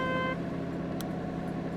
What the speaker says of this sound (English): Let's hit that horn